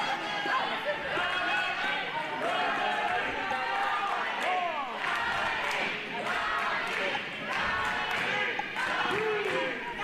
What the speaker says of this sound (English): These people can cheer all they want.